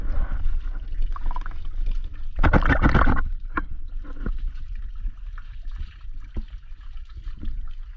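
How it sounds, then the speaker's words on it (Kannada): A small stream of water falls into a village swimming pool surrounded by coconut trees, a close, continuous trickling and splashing with a louder gush midway. "ಸಣ್ಣದ ನೀರು ಬೀಳ್ತಾ ಇದೆ"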